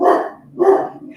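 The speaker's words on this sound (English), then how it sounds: "Yeah, that's my dog." A dog gives two loud, close barks in quick succession, with nothing else heard.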